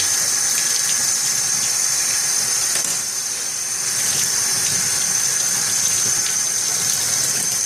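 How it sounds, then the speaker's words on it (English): Running tap water pours steadily over dyed G10 knife handle scales being rinsed, a continuous hissing gush held close and loud with no talk. "So let's go ahead and just get these washed off here."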